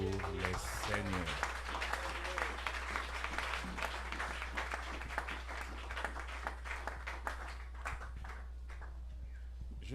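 Applause rises from a church congregation at a convention, steady mixed clapping spread across the room, with a low constant hum and bits of voices and music mingling underneath.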